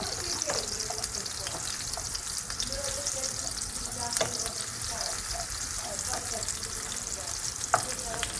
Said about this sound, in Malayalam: സബോള നന്നായിട്ട് ഫ്രൈ ആയിട്ട് വരണം.